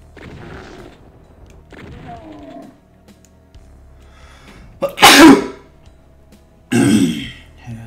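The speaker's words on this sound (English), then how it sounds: "Had a sneeze." Two sharp, explosive sneezes burst out close by, a second or so apart, after a stretch of quiet shuffling and faint breathy sounds.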